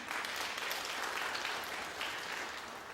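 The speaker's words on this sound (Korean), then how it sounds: "어머니들한테 박수 한 번 더 쳐줘야 돼요" Churchgoers at a Sunday service applaud mothers, a soft, distant but sustained crowd of many clapping hands forming a steady even rustle for about three seconds, with no voices over it.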